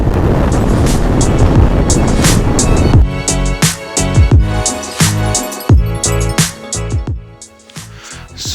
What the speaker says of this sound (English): there's so much of wind here